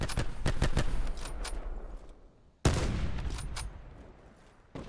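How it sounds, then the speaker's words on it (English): Rapid bursts of automatic gunfire crackle in a battle royale video game, a dense fusillade fading and then a sharp fresh volley, loud and close. "I'm being shot from like southeast somewhere."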